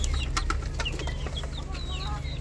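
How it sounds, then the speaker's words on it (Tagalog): Chickens clucking and chirping on a small farm in the Philippines, several short calls scattered near and at mid-distance over a steady low hum of background noise. "Yung manok niya, oh, manok ng Machang yan."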